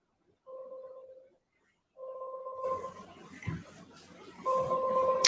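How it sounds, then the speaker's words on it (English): A telephone rings in repeated electronic two-tone bursts, three rings with short gaps, while a rough, busy background noise swells in and partly covers the later rings. "Y'all hear the phone ringing."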